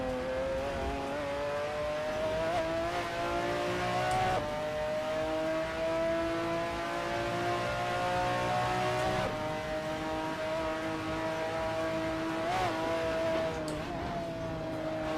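Race car engine lapping a track in Assetto Corsa, a steady high droning whine that dips at gear changes and climbs again, continuous and close with no voices.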